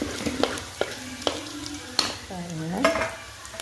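Mustard seeds, onion, cashews and dried red chilies temper in hot oil, giving a soft crackling sizzle with scattered utensil clicks and stirring taps. A brief faint tonal squeak rises near the end.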